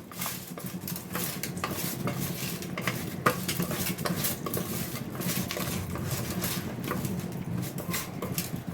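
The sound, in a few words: stirring fish with salt and turmeric powder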